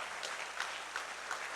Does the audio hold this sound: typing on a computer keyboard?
no